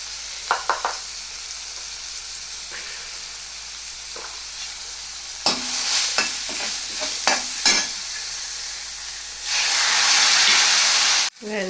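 Spices for turai kadhi sizzle in a pan while a spoon stirs and scrapes, sparse clicks and knocks over a quiet hiss, then a louder burst of sizzling and steam near the end before a sharp cutoff.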